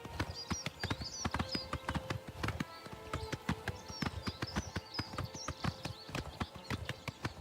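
Horse hooves clip-clop steadily in Oblivion Remastered, a brisk, even rhythm of sharp close taps with faint tonal game ambience beneath and no talking.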